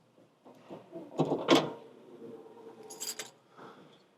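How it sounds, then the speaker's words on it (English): A bunch of keys jangles and rattles against the trunk lock of a 1958 Chevrolet Impala, with metallic clinks and a scrape and a brief clatter as the lid catches, heard close and alone over a few seconds. "Hopefully, one of these keys can open the trunk."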